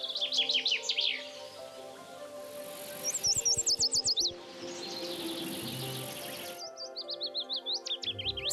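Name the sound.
birds singing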